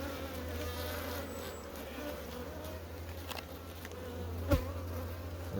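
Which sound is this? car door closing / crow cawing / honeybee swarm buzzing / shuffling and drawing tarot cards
honeybee swarm buzzing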